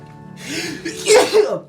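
A single loud, close sneeze with a sharp breathy burst at the end, heard alone.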